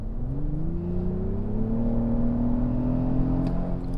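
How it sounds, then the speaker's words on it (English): A 2024 Lexus GX 550 in sport mode, its artificial engine note rising smoothly in pitch as it accelerates, heard from inside the quiet cabin over a steady low road drone. "In sport mode, we do get a little bit of artificial noise coming through."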